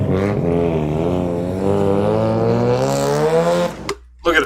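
A car's exhaust roars on a city street, a loud rising engine note that climbs steadily for a few seconds and then cuts off abruptly.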